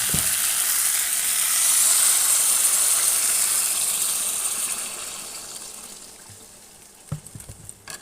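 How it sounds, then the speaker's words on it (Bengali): Water pours into a pan of fish curry with fresh pond fish, vegetables and fried spices, making a loud rushing sizzle that gradually dies down to a quieter simmer, followed by a few light clinks. "এবার পরিমাণ মতো জল দিয়ে দেবো।"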